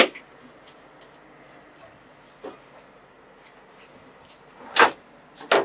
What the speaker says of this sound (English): Let's open the door and check it out inside.